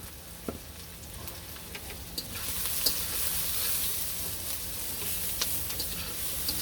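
Onions and green chilies frying in a pan in a village kitchen, a steady hiss and sizzle with occasional clicks of stirring, rising slightly after a few seconds and holding close and even throughout.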